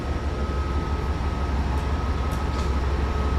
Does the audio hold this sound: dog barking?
no